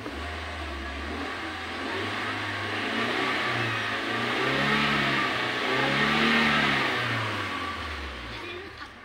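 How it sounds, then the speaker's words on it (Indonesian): A 2015 Avanza's 1NR engine, which is hard to start, revs up and down in slow swells, a steady droning roar that rises and falls close by. "Coba kita geber-geber dulu gasnya guys"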